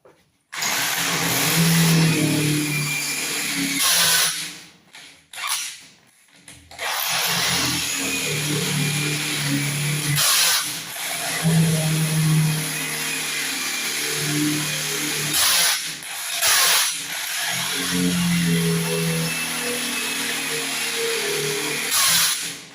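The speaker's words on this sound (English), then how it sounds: "I'm going to drill by hand instead of using the limpet now." Hand drill grinding into the steel barrier of a Chubb safe, a loud continuous whir with a few brief pauses and shifts in pitch, close by and without talk.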